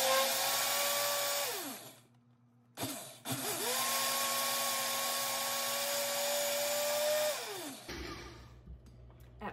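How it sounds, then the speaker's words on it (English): A countertop blender whirs loudly on a Dijon mustard mixture in two long runs, its motor pitch dipping as it spins down after each, with a short pause between bursts and a quieter tail at the end. "I'm gonna get this on and just blend it until it's a consistency that I like"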